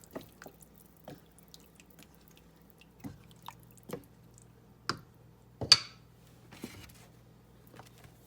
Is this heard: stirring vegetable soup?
yes